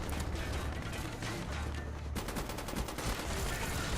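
Rapid automatic gunfire with mechanical clicks and a weapon reload in Call of Duty: Black Ops, dense and continuous through the whole stretch with a brief break midway.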